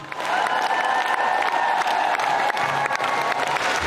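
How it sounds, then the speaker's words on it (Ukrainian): A theatre audience in Kyiv gives stormy applause after the Virsky ensemble's concert and hopak, a thick, continuous wash of clapping with light cheering mixed in, loud and unbroken throughout. "Бурхливі оплески вдячних глядачів ще довго не відпускатимуть артистів зі сцени."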